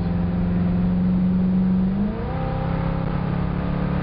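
A car with a 302 engine accelerates hard with a steady, loud engine drone. Partway through, the pitch drops sharply as it shifts gears, then the engine keeps pulling and climbing again.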